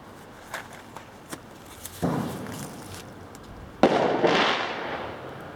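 A fire burning a stack of paper gesture drawings: light ticking crackles, then two whooshing flare-ups of flame, the second louder and longer, heard close.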